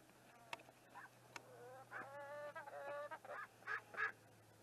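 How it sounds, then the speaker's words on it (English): Geese honk in a series of short nasal calls, several overlapping honks rising toward the end, fairly faint and distant over a low hum, with no talk. "I'm looking for the section on birds making lots of noises."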